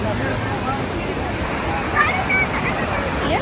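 Water crashes against rocks at KRS dam, a steady, loud, roaring wash with people talking over it.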